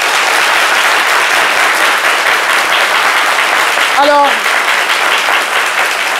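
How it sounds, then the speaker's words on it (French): A studio audience at a French midday TV talk show applauds for Chantal, with dense, steady clapping that runs loud throughout and a brief spoken voice partway through. "Est-ce qu'on peut applaudir pour Chantal?"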